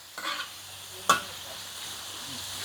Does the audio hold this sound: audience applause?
no